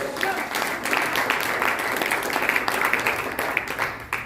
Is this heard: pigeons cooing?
no